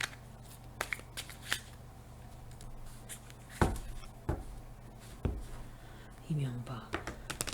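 Cards are shuffled by hand for a fortune-telling card reading, giving crisp flicks and sharp taps at irregular intervals over a steady low background, with a soft voice now and then.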